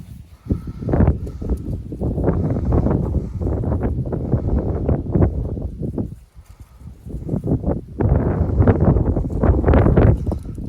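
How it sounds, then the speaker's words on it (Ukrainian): Gusty outdoor wind buffets the microphone in long, loud, rumbling waves, easing briefly in the middle before surging again, with no speech. "Вітерок дує."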